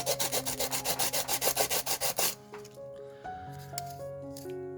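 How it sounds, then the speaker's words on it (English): Wood being sanded by hand for a Wastelands Wednesday triple stacker build, about a dozen quick, loud, rhythmic rubbing strokes that stop abruptly and give way to quiet, sustained musical tones. "Okay, a little bit of sanding."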